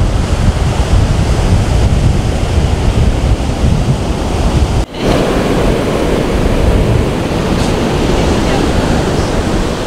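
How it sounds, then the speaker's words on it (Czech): Loud, continuous crash and hiss of ocean surf at a New Zealand surf beach, with heavy wind buffeting the microphone, waves rolling in close by. "Malem nás dala vlna, Veru."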